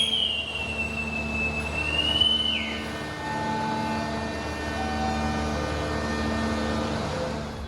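A vintage locomotive-hauled passenger train departs platform 1 at Tulungagung station, with a steady rumble, a high whistle-like tone early on and faint sustained wheel squeal tones, moderately distant.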